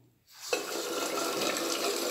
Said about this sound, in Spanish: abrimos la canilla.